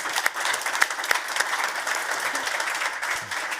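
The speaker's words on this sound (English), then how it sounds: "Please join me in a round of applause" An audience claps steadily, a dense patter of many hands filling the room at moderate loudness.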